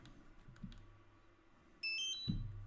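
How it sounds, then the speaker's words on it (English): A loud, high electronic beep cuts in partway through and holds steadily to the end, over a faint low hum and a couple of soft thumps. "there's gonna be a loud beep in a sec."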